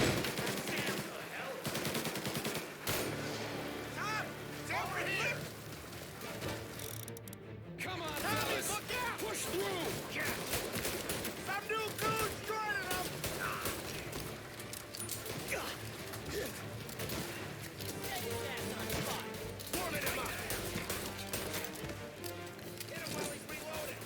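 Gunfire in the video game Mafia Definitive Edition: repeated sharp gunshots and bursts crackle throughout a dense, loud game mix with someone talking over it.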